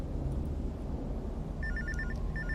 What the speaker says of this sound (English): I'll answer the phone in just a second.